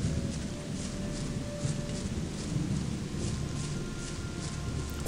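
Night rain in the video game Gothic falls as a steady, dense hiss with low rumbling thunder rolling beneath it, continuous and fairly soft throughout.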